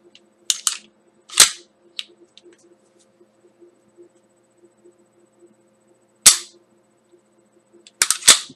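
A pistol is dry fired, giving sharp metallic clicks from its trigger reset, close and crisp, scattered singly and in quick pairs between stretches of near silence with a faint background hum.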